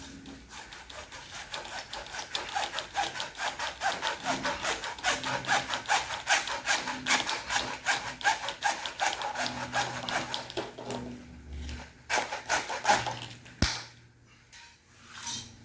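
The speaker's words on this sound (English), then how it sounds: "I do not have a PVC pipe cutter, so I have to do this the old-fashioned way with a hacksaw" An old hacksaw blade cuts through PVC pipe in rapid, rhythmic back-and-forth strokes, close and fairly loud, slowing and stopping near the end with a sharp knock, no talking.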